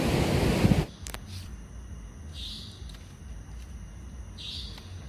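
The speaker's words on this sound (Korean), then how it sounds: "이 새소리가 그리울 겁니다." Faint birds chirping in short high calls at a distance near My Khe Beach in Da Nang, Vietnam, over a steady background hiss after a brief burst of broadband noise at the start.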